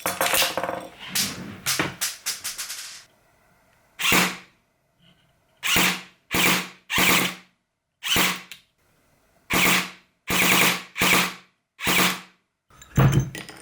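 An airsoft electric pistol shoots 0.36 gram BBs from a Sumo magazine through an overly long barrel: a quick burst of sharp clicking shots, then a string of separate snappy bursts spaced out across the clip, close and fairly loud.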